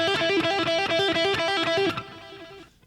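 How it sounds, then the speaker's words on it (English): Electric guitar lead line of picked notes joined by hammer-ons, repeating in a quick steady rhythm with a distorted, effects-laden tone, close and loud, then ringing out and fading over the last second. "Here's a sequence where you pick a note and you hammer on, but you just keep that going"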